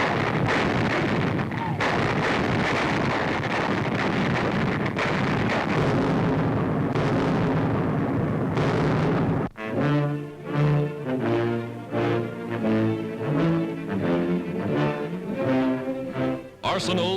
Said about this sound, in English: A 50mm aerial defense weapon with plenty of kick. Manning anti-aircraft batteries, they feed shells and fire them with clockwork precision.